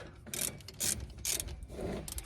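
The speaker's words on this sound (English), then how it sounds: "Now you're gonna take your 14mm socket and you're gonna start" A ratchet fitted with a 14mm socket turns a brake caliper bolt on a 2016 Nissan Altima during a front brake pad job, giving bursts of close, crisp clicking, roughly four short runs with brief pauses between them.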